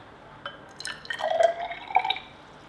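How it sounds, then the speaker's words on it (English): Water trickling and dripping into a glass test tube holding copper sulfate, a few soft, close liquid drops and a brief pour with no one talking. "we're going to add a bit of water to that and dissolve it"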